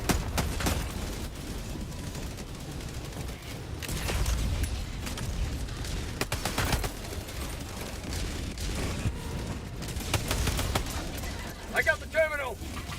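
Enemy gunfire in Helldivers 2 at the highest Helldive difficulty, with sustained shots, booms and mechanical clatter going on for many seconds, some bursts nearby and others further off.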